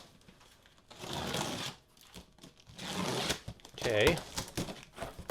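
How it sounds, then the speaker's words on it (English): A cardboard shipping box is sliced open, with three scratchy cutting and tearing passes of rising loudness, and a person speaks briefly alongside. "Let's go ahead and cut into our next box."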